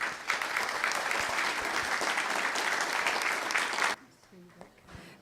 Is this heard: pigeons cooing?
no